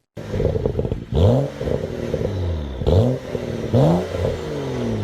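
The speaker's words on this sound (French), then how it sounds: "L'échappement M Performance ajoute une sonorité bestiale qui vous fera sourire bêtement à chaque montée en régime." A BMW engine with an M Performance sports exhaust revs hard three times in quick bursts, each rising roar dropping back with crackling pops from the exhaust, loud and close.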